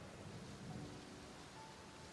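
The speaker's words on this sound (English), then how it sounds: "I didn't have my rain ambiance on." Steady rain ambience with a soft rumble of thunder, quiet and continuous throughout with no voices.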